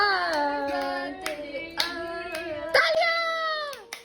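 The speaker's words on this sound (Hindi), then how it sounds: "तालियां" Scattered claps at a birthday cake cutting, a few sharp hand claps spread through the moment while a singing voice, apparently a child's, carries on over them.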